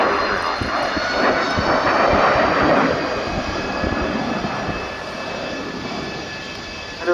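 Messerschmitt Me 262 jet fighter in a flying display at RIAT 2023, a loud, sustained jet engine roar that swells and slowly fades as the aircraft passes, with no voices.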